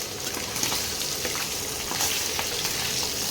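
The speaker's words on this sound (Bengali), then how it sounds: "প্রতিটা মাছ আমি ভেজে নিই, ভেজে নিয়ে তোমাদের আবার দেখাচ্ছি।" Gule fish frying in hot oil in a pan, giving a steady, close, crackling sizzle that holds at an even level throughout, with no voices.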